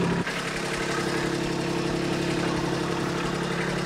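A Kubota tractor with a mid-mount mower engine idles steadily nearby with a low, even hum while its loader pushes down. A brief shift in the engine note comes right at the start.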